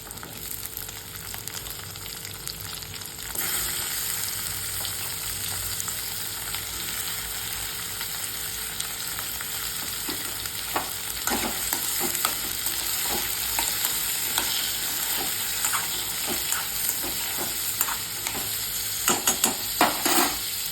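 Onion and tomatoes sauté in a pan with a steady close sizzle, with occasional scraping stirs that grow more frequent toward the end, no voices.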